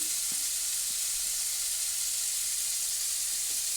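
A chickpea, carrot, leek and celery curry simmers in a pot, giving a quiet, steady sizzling hiss with a few faint knocks from occasional stirring.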